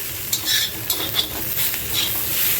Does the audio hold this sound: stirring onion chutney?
yes